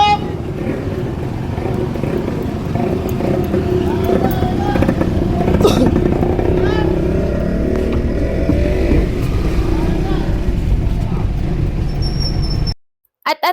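A motorized tricycle is driven fast along a road in Calamba, its engine droning loudly and steadily with passing traffic and wind noise, then cutting off abruptly near the end.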